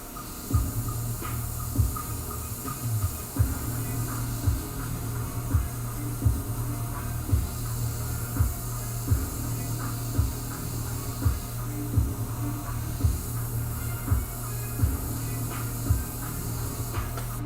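An airbrush sprays paint onto a Chucky-themed lowrider bike frame, a faint steady hiss over a low hum, punctuated by regular soft rhythmic pulses roughly every second.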